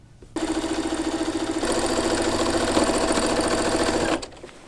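A sewing machine stitches upcycled garment pieces together, a loud close rapid mechanical whirr that runs steadily for about four seconds, then stops.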